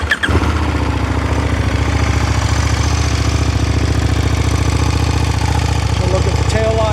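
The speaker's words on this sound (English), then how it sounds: "let's go ahead and crank her up for you" A 2020 KTM 1290 Super Duke R motorcycle engine cranks and fires, then settles into a loud, close, steady, lumpy idle that runs to the end.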